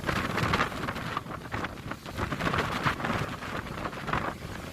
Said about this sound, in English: It is bringing strong winds and heavy rain.